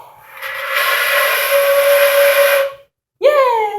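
A beginner blows a sustained breathy note on a flute for about two seconds, then stops, and after a short silence a second tone starts sliding upward, close and loud.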